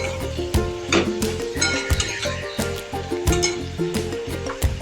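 Metal spoon scraping and clinking against a pan while turmeric and Kashmiri chili powder are stirred into a fish roe mixture, producing quick irregular close clatter with faint sizzling beneath.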